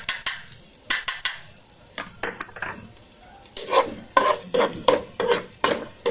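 Garlic and onion stirred into melted butter in a pot, with a utensil repeatedly scraping and knocking the pot in uneven bursts over a soft sizzle.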